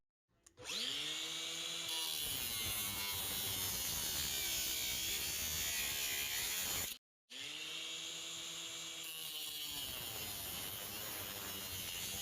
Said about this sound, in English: I'm going to get the grinder and I'm going to cut through here